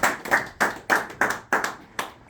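A small group claps in congratulation, giving eight sharp, evenly spaced claps that sound close and moderately loud, with no talking over them.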